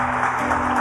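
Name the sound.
church congregation applauding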